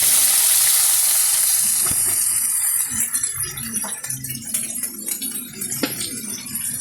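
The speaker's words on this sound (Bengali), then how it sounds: "কুচোগুলো দিয়ে দেবো তেলের মধ্যে" Paneer pieces fry in hot oil for paneer chilli. A bright, close hiss settles into a busier spread of crackles and small clinks that continues to the end.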